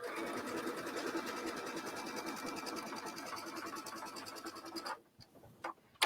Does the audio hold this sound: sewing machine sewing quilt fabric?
yes